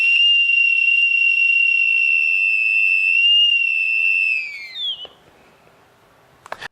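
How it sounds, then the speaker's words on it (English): A flat 3D-printed whistle gives one loud, steady, shrill tone for about four seconds, then slides down in pitch and cuts off, followed by faint handling clicks. "And this whistle sounds like this."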